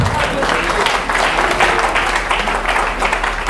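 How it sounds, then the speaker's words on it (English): A church congregation claps and cheers during an apostolic service, a dense continuous burst of applause with a voice faintly mixed in. "Somebody clap for that Jesus"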